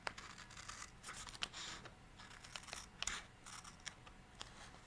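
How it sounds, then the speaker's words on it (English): Scissors trim excess paper off a planner page, a run of crisp snipping and crunching cuts close by at an uneven pace, with no talking over them. "I'm just going to trim that excess off."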